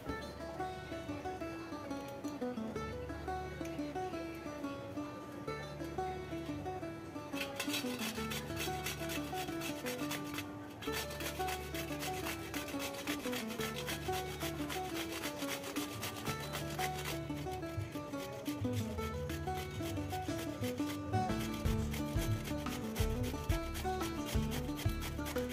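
Pointed gourd (potol) rasped against a hand grater with steady, repeated scraping strokes, continuing for a long stretch over background music.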